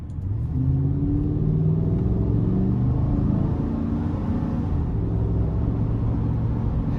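A 2015 GMC Sierra 2500HD SLT Double Cab with the 6.0-liter gas Vortec V8 and 86,000 miles pulls hard under acceleration: a loud, close, steady engine drone whose tones climb as it revs, with no voices.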